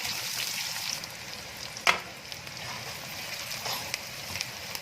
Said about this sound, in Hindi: हम इसमें डालेंगे प्याज, तो इनको हल्का सा लाइट ब्राउन करेंगे।